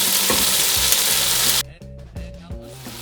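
Vegetables for a vegetarian breyani sizzle loudly in a hot pot for about a second and a half, then the frying drops to a quieter, intermittent crackle.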